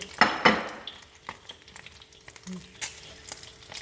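Food fries in a pan with a light crackling sizzle, broken by a few sharper scrapes and clatters of stirring, close by with no talking.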